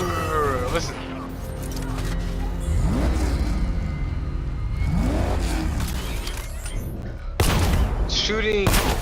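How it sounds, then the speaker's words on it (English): Rubber-bullet gunfire in Batman Arkham Knight, a series of shots and bursts over roaring game vehicles and a rumbling low background, with a person talking over it throughout. "Shooting freaking plastic bullets or rubber bullets or whatever"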